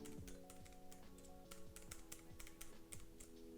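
Quiet keys on a Bluetooth numeric keypad tapped in quick irregular bursts, soft close clicks alone in a quiet room.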